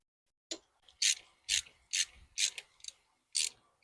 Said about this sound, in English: that hose clamp's skipping